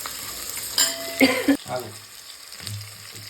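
Stirring a salted frying mixture in a pan until it browns, with soft scraping and stirring strokes and a faint sizzle, plus a few brief clanks of utensil against the pan.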